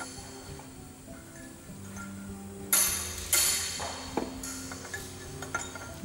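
Metal hammer blows ring out, a hammer and C-spanner driving a bearing nut along a shaft, a handful of sharp strikes after a quiet start, close by, with faint clinks in between.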